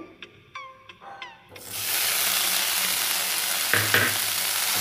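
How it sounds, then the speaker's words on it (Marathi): Khoa is roasted and stirred in a pan for khawa poli: a few clinks and squeaks, then a steady loud frying hiss with scraping stirs near the end. "तर आता आपल्याला खवा भाजून घ्यायचा आहे."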